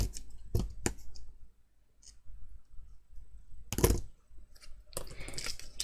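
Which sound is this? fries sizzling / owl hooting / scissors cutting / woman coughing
scissors cutting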